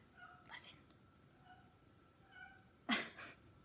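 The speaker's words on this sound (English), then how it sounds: "I'm sorry if you can hear my cats talking," Pet cats meowing indoors, two short separate calls, the second louder and closer, over a quiet background while someone speaks softly.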